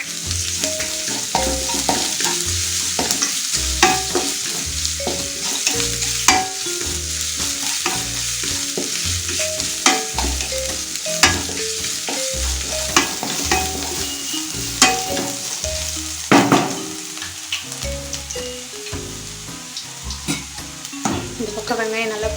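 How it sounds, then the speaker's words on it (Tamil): Crushed ginger, garlic and onions sauté in a pan for gobi Manchurian, loud continuous sizzling broken by repeated rhythmic scrapes and clacks of a spoon stirring, heard close and alone without talk. "நல்லா வதக்கிக்கலாம்."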